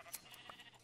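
Sheep in the Minecraft video game give a few short, faint bleats, one high and one mid-pitched, spaced apart within under a second, alone with no talk.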